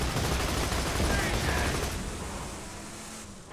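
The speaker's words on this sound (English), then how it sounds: "If you hold fire, you can shoot too, Birch." Dense, rapid gunfire from a firefight in Borderlands 2 crackles in a continuous close burst that fades slightly toward the end, with a voice faintly present beneath it.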